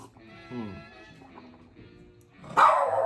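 A dog at home gives a sudden loud, close bark near the end, after a stretch of quieter indoor sounds and a faint vocal whine.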